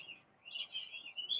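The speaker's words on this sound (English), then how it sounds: "It's the sound of an alarm which is going me, me, me." An electronic alarm gives off faint, high, wavering chirps that sound like singing birds, repeating in short warbling bursts with no voices.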